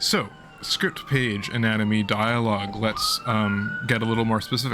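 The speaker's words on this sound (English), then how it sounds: "that's a siren outside" A siren wails faintly in the distance, its slow rising and falling tone running beneath someone talking throughout.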